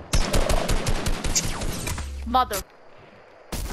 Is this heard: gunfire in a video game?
yes